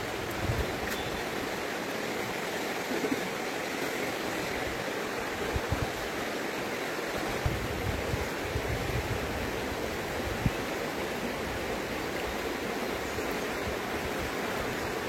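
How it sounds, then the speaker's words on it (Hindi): A river flowing near a room, a steady broadband rush of water that stays constant and fairly loud with no pauses, heard alone without talk. "नदी के बहाव की आवाज़ अगर सुन पा रहे होंगे"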